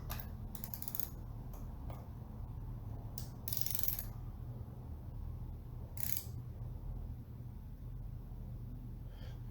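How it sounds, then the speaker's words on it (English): Ratchet wrench clicking in a few short bursts while tightening bolts on an IMCA modified race car, fairly close over a steady low hum. "Take my ratchet."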